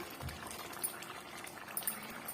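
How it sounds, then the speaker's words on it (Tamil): Egg gravy simmering in a pan over a medium flame, giving a low, steady bubbling wash with a few faint pops and no talk, fairly quiet throughout. "நம்ம சேர்த்துருக்கிற பொருள் எல்லாம் ஓரளவுக்கு நல்லாவே கொதிச்சு வந்துருச்சு"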